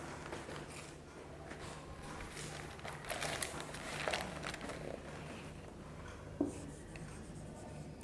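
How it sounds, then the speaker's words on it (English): Handwriting an answer for a Class VII English lesson: a quiet, continuous scratching of pen on paper with faint rubbing and a couple of soft taps, close by, over a low background hum. "So children, let's write the answer."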